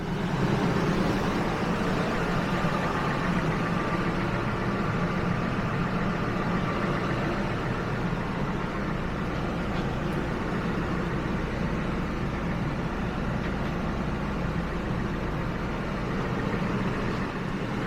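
Ford F-150 pickup with 331,000 miles idling, a steady, dense engine rumble close by that holds unchanged for the whole span with no talk.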